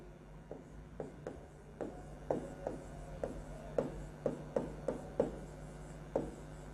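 Chalk or marker strokes on a board during a chemistry lecture on gases, a dozen short scratching taps in an irregular rhythm, close and fairly quiet, with no talking.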